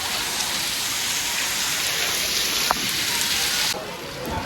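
Heavy, steady rain pours down at a temple in Olpad, Surat, in a dense, continuous hiss with no pauses, close and loud throughout.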